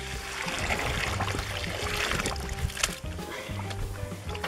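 Water pours and splashes while wheat is scrubbed clean by hand, a busy sloshing and trickling with soft knocks of grain throughout.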